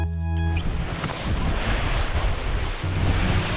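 Wind and breaking waves rush continuously around a sailing boat on winter seas off the Faroe Islands, a loud, steady roar of surf and gusting wind across the microphone with no talking.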